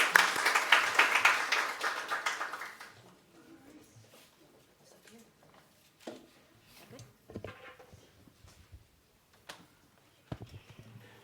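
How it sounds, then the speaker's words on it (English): Applause for Reverend Jean Bell at a church talk, fairly loud for the first few seconds and then dying away into scattered faint claps, small knocks and quiet room noise. "please join me in a round of applause for Reverend Jean Bell"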